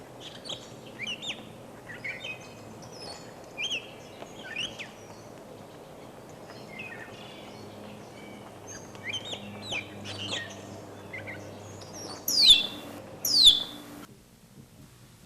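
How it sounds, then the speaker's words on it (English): A newborn mountain lion cub gives two sharp, high descending chirps close together near the end, after faint scattered calls over a low, steady background hum. "The chirps of a newly born mountain lion."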